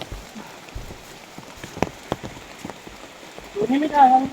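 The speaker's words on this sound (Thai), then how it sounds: "แล้วก็ฝนตกหนักด้วยครับเพื่อน" Heavy rain falls through a forest, a steady patter of drops on leaves and ground with scattered louder splats, joined near the end by a brief higher-pitched cry or voice.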